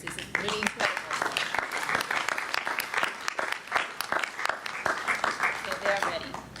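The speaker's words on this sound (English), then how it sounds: "we have to applaud for that" A board of education meeting audience applauds in a steady, dense patter of clapping that lasts several seconds, with voices murmuring underneath.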